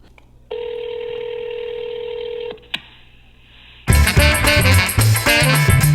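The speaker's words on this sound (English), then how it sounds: "I'm gonna dial the phone number now." A telephone number is dialed: a steady tone runs for about two seconds, a single click follows, then a burst of loud busy sound fills the end.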